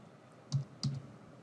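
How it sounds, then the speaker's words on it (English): Two soft, distinct key clicks from someone typing a message on a computer keyboard, close and quiet against a faint room hush, spaced about a third of a second apart. "So I'm typing here, I want to automate my business."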